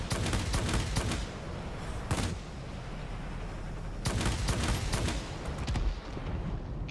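Loud bursts of rapid aircraft cannon fire from a Japanese Tachikawa Ki-162-III fighter in World of Warplanes come in clusters, with short lulls between the volleys.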